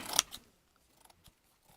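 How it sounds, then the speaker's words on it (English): Scissors snip through a basket in one loud, close crunching cut followed by a softer second snip, then only faint scattered small clicks and handling noises. "I'm just gonna cut it"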